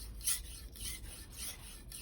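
A knife blade strokes across the 1000 grit side of a Naniwa multi-stone whetstone, making repeated close scraping rasps, about four passes in a steady rhythm, with no voices.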